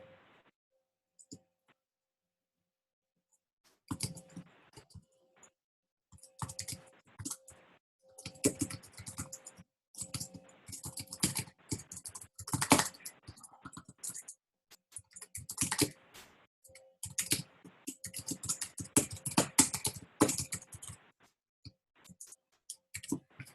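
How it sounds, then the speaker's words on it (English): Typing a message on a computer keyboard, bursts of rapid close clicking keystrokes with short pauses, following a quiet stretch at the start. "Let me type it out and then I'll read it."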